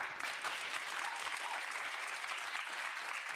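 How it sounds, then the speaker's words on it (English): Dense audience applause from a large crowd, a continuous hiss of many hands clapping at once, steady and moderately loud for the full stretch, heard as part of a played-back video recording. "That's the only way they could get that many people in the audience to clap for her."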